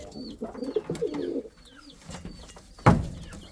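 Indian fantail pigeons coo at close range in a soft, low, throaty run, with faint chirps and a louder sharp flutter or clap near the end and no talking.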